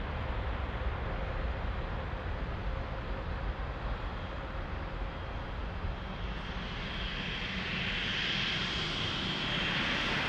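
Jet engines of a Boeing 787 at Lisbon Airport, a loud, steady broadband roar that brightens into a rising whine toward the end, with no talk over it.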